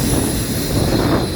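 An FEC freight train of single-stack cars crosses a bridge at St. Augustine, Florida, its wheels giving a steady, loud, high-pitched squeal over a constant rumble of rolling cars.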